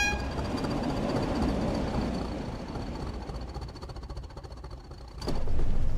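A Class 20 diesel hauling a nuclear flask train across a junction on the West Coast Main Line, a steady rumbling roar with rail clatter and a brief metallic squeal before it swells louder near the end.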